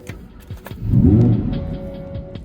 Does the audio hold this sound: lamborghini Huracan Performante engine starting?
yes